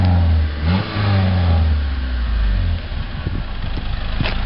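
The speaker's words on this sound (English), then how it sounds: "Give it a couple revs." A 1990 Honda Civic Si engine with factory exhaust revs up a couple of times, rising and falling in pitch, then settles into a steady low idle rumble.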